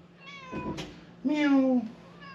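A house cat meows twice up close, first a short call and then a longer, louder drawn-out one, with a light clatter between them.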